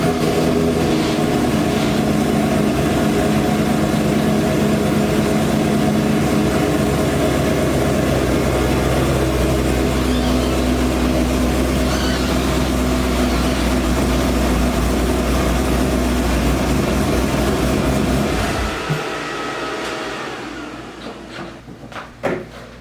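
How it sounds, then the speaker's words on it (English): A C6 Corvette engine rumbles steadily with a low, loud drone while backing up, then cuts off and falls quiet near the end. "let's back up the Vette so we can get some space"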